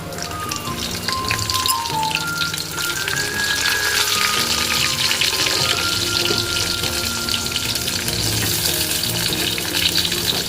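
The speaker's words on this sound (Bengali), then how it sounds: "এবার আমি এই পটলগুলোকেই একটু ভাজতে দিয়ে দেবো।" Whole small tender pointed gourds (potol) fry in oil with a steady, dense crackle and spatter that runs unbroken throughout, close and fairly loud, with no voices.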